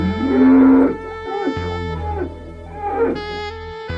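Cattle moo in a Minecraft-style block game, several long drawn-out lowing calls following one another, loud and close, with no talk over them.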